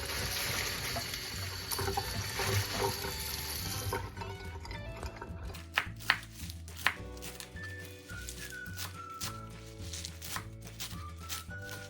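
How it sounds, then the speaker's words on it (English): Garden kale is rinsed under a running tap, a steady gush of water for the first few seconds, then wet leaf handling with sharp splashes and clunks at a sink, close and moderately quiet, no voices. "We can wash the kale thoroughly."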